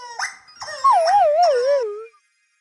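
A lost cartoon dog lets out a few rising whimpers followed by one long, wavering howl, clear, close and alone, which then drops away into silence.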